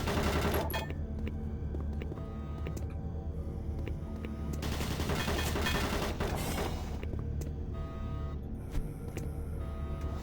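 Automated turret guns in the video game Doom 3 firing loud, rapid machine-gun bursts with sharp individual cracks and heavier booming volleys, continuous and close throughout.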